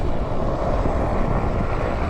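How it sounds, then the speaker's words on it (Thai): Helicopters passing overhead at a husky sled-dog site in the Arctic, a dense continuous rotor and engine roar filling the short stretch, loud and steady with no voices. "เห็นเฮลิคอปเตอร์ก็มาด้วยนะคะ เฮลิคอปเตอร์ สามคันเลยค่ะเฮลิคอปเตอร์"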